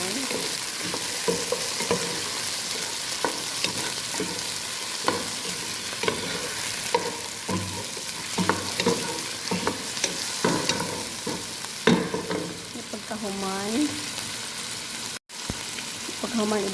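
Chicken breast stir-fries in a pan with tomatoes, a steady close sizzle broken by repeated scraping and stirring strokes of a utensil.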